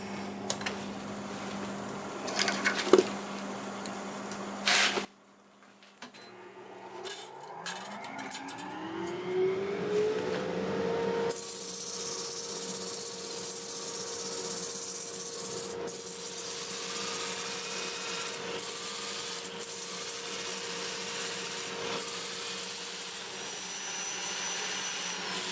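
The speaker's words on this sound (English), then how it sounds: "So let me get this sanded up" Sanding a black walnut bowl on a wood lathe, a steady close-up rubbing hiss that starts after a brief pause and runs continuously under the motor's whine.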